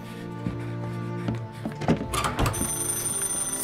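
A telephone rings inside the game Mafia Definitive Edition, with bell-like tones rising over a steady game soundtrack and a few thuds.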